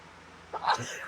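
A single short, breathy sneeze bursts out at close range against a quiet background.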